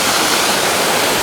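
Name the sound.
waterfall rushing in Glacier National Park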